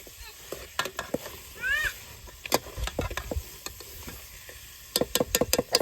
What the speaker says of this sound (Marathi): मसाला मिक्स करते तेलात भाजतंय